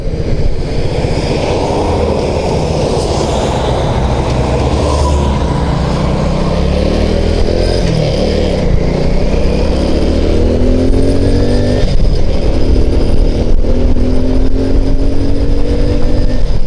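An Alpha moped engine drones loudly and steadily up close as the rider turns around, with the pitch rising and falling through a few revs.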